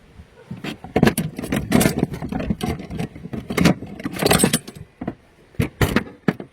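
Metal shears used for cutting building panels being handled up close: irregular sharp metallic clinks, clacks and rattles in quick bursts, with short pauses between.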